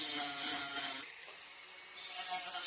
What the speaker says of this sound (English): I've got some marker on here that I'm gonna sand off right now